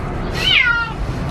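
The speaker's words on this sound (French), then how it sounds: "Il miaule pour venir dehors." A single cat lets out a clear, rising-then-falling meow, wanting to be let outside, close by over a low background hum.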